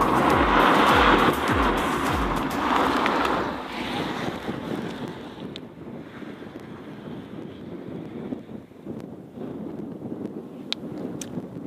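A Volkswagen Up GTI engine warming up rumbles steadily at idle, loud at first with a rougher churning that settles into a lower hum, with wind noise on the microphone.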